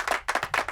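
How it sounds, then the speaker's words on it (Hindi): A classroom of students gives a short burst of clapping, a few quick uneven bursts of hand claps lasting under a second, fairly close and moderate in level. "तालियां बजाओ"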